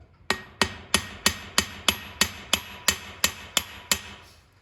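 Sharp metallic hammer blows drive the main pivot pin into the steering bushings of an International 986 tractor, about a dozen evenly spaced, loud strikes each ringing briefly before the next.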